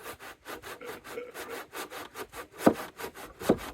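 Rhythmic back-and-forth strokes of a hand saw cutting wood for a driveway gate, with about a dozen steady rasping pulls, close and moderately loud, with no talking.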